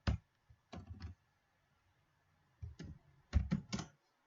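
Computer keyboard keys are pressed for Ctrl+Shift selection shortcuts in a spreadsheet: a few short, close clicks come in small clusters separated by near silence, with no voices.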